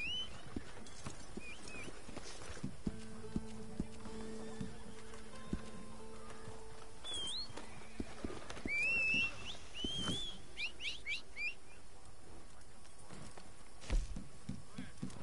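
Horse sounds in the Red Dead Online video game: a few soft hoof clip-clops and a brief whinny, faint and scattered, with light ambient noise and occasional chirps.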